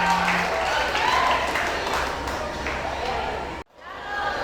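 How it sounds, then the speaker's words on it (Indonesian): A school audience at a capping and pinning ceremony for graduating vocational students claps for the headmistress, a dense, sustained roar of applause that cuts out abruptly near the end before crowd noise returns. "Mari sekali lagi berikan tepuk tangan yang meriah buat Ibu Kepala Sekolah kita."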